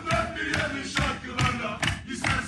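Galatasaray fans chant in celebration of the club's championship, a loud crowd with rhythmic, pulsing surges of voices.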